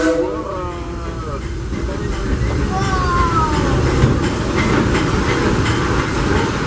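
Disneyland Railroad steam train Ernest S. Marsh #4 rolling along the rails with a steady rumble and faint clickety-clack, a brief hiss and squeal, while a voice talks over it.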